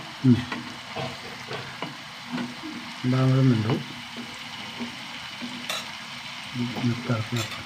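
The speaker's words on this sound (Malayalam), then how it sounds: "ബാക്കിയുള്ള ചിക്കനും കൂടി വറുത്തെടുക്കട്ടെ കേട്ടോ" Chicken frying in oil in a home kitchen, with a steady broadband sizzle and stirring clatter throughout, a louder burst of scraping around the middle, and someone speaking briefly over the cooking.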